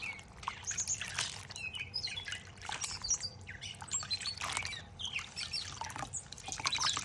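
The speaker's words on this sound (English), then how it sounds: "They are a very reclusive little bird, but they do become friends after a while" A small reclusive bird chirps and tweets repeatedly close by, bright quick calls over a soft steady outdoor hiss.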